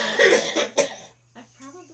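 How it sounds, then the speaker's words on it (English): A couple of harsh, wet coughs up close, followed by softer voice sounds at the end. "he's still got a really bad cough"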